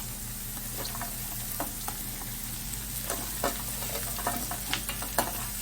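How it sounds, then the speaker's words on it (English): Carrots and green beans sauté gently in butter on low heat in a pot, giving a soft steady sizzle with occasional faint stirring scrapes and clicks, close and quiet. "We're just gonna saute it on low."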